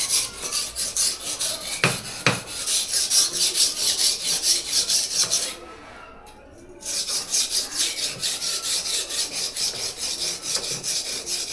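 A kitchen knife is honed on a soaked sharpening stone with steady back-and-forth rasping strokes, close and loud, broken by a short pause midway before the scraping resumes.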